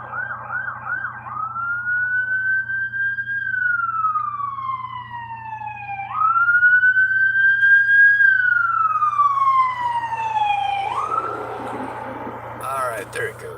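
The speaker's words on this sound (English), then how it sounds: "I hear a siren, so I'm gonna sit here a minute." An emergency vehicle siren wails down the road, rising and falling in long slow sweeps that swell louder as it draws closer, over a steady low engine hum.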